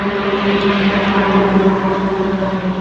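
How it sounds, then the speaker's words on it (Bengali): A constant low engine drone with a rumbling hum from road traffic passing nearby on a highway, fairly loud and unbroken for a few seconds. "পিছন দিয়ে তো গাড়ি আছে, দেখতেই পাচ্ছ, কলকাতা থেকে আসছে, বর্ধমান যাচ্ছে"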